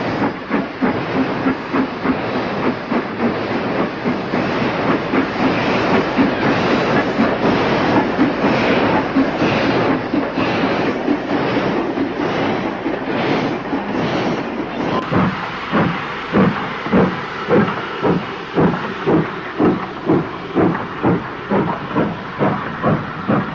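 Steam locomotives, including a Black 5 heading south and a tender-first engine bound for Manchester Central, pass under Edgeley Road Bridge in Stockport in the late 1950s, with loud continuous chuffing, hiss and rhythmic wheel clatter that turns into distinct beats near the end.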